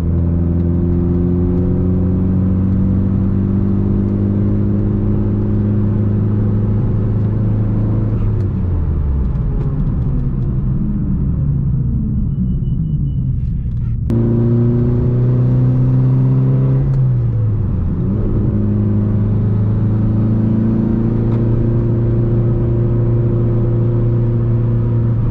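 A Mitsubishi Lancer Evo 8 is driven hard while its brakes are bedded in: a loud in-cabin engine drone climbs and falls through repeated accelerations and decelerations, the pitch swooping down sharply twice as the car slows.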